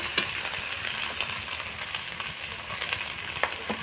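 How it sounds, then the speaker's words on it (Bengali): Hilsa fish in mustard paste crackles steadily in a frying pan, with light scraping strokes of stirring over a constant close sizzle. "তো এবার একটু নেড়ে করে নিচ্ছি"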